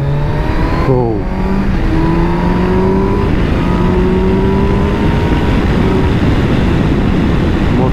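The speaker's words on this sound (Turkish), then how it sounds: "Motor kendine geldi. Full power yapınca." A Kawasaki Versys motorcycle engine revving hard at full throttle, a loud, close, continuous roar whose pitch climbs and then holds steady, with a brief exclamation early on.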